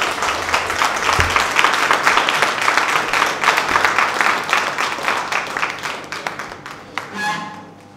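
An audience at a workshop applauds warmly, with dense sustained clapping from many hands that fades out toward the end, and a few voices mixed in.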